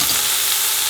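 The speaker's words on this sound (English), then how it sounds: "now we're going to fry the onions, carrots and potatoes for at least 4 to 5 minutes." Onions, carrots and potatoes fry in a pan for a chicken vegetable soup, a loud, steady, close sizzle with no voices.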